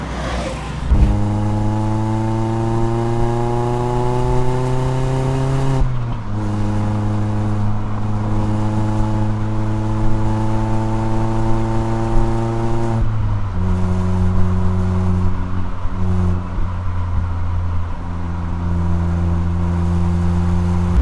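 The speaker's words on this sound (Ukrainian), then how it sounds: "звучить цей дволітровий двигун так, як ні один інший дволітровий двигун" A Mazda MX-5 RF Miata two-litre engine revs up in long rising pulls, dropping and climbing again, loud and close with no talking.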